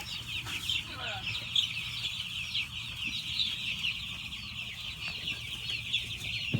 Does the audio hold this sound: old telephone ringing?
no